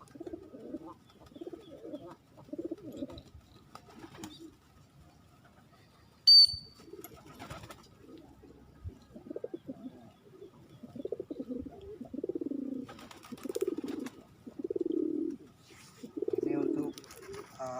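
Pigeons coo repeatedly in soft, low rolling phrases, close by, with a brief flutter of wings and faint background noise.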